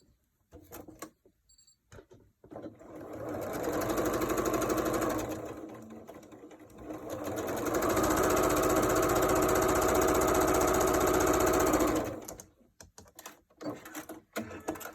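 A sewing machine sews down a quilt block seam in two sustained whirring runs, loud and close, framed by quieter clicks and fabric handling before and after.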